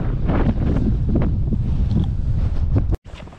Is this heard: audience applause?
no